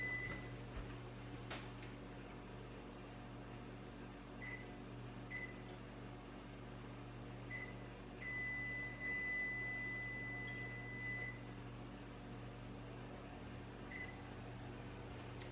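A new kitchen oven gives several short electronic beeps, scattered at first and then a longer tone, while its temperature is lowered and timer reset, faint over a steady appliance hum.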